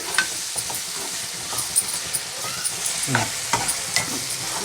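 Ginger garlic paste, two spoonfuls, sizzles and fries in a pan for chicken curry, with a steady hiss broken by a series of scraping stirs and spatula knocks, close and fairly loud.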